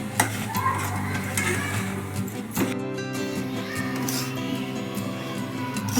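Semolina is dry-roasted in a pan and stirred with a spoon, giving soft scraping and light gritty rustling with occasional metallic clinks, close by, over a steady background hum and with no one talking.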